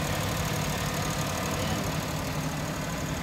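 Suzuki Wagon R with an R06 VVT engine running steadily at idle, a constant mid-to-low mechanical drone with a slight knocking texture, close and continuous with no talk.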